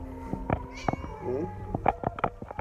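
A Siamese cat on a terrace gives several short meows close by, one a longer wavering call, mixed with a person's nearby voice.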